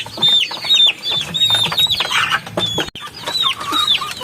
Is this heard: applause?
no